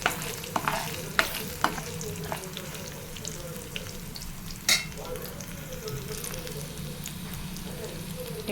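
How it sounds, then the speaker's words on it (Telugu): Dried chillies, mustard seeds, cumin, chana dal and urad dal fry in hot oil, giving a close, continuous sizzle. Occasional sharp crackles and pops and the scrape of a stirring spoon cut through it. "ఆయిల్ వేడైనాక మిరపకాయలు, ఆవాలు, జీలకర్ర, పచ్చిశనగపప్పు, మినపప్పు ఇవి కొంచెం వేయించుకోవాలి"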